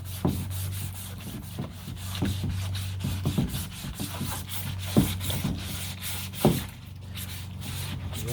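A new gold pan is scratched crossways with a rough tool, producing repeated close rasping strokes in an uneven rhythm over a low steady hum, with a few sharper scrapes standing out.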